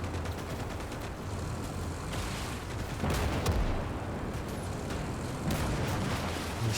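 Mobile artillery firing in the WWII strategy game Gates of Hell, a dense barrage of booming shots and rumbling blasts with sharper cracks near the middle and end, loud and continuous.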